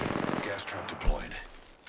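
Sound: gunfire in a video game

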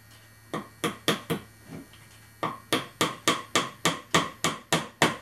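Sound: small hammer tapping on wood

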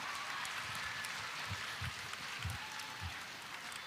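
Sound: church audience applause after a stage performance

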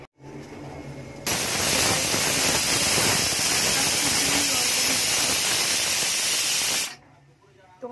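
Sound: pressure cooker whistle and steam hiss

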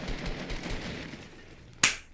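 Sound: gunshot in a video game (PUBG-like shooter)

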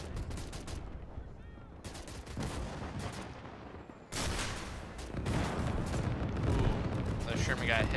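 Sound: 105 artillery barrages in Gates of Hell: Ostfront video game

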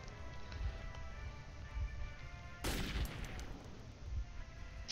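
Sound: AK rifle gunfire in video game Metro 2033

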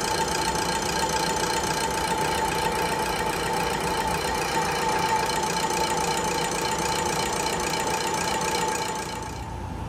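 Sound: machining rotor ends square on a lathe

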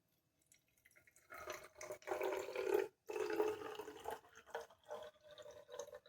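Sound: liquid poured into a bottle

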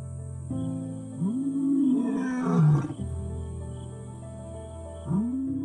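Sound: male lion roaring

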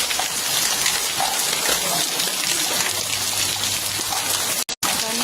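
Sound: rain falling

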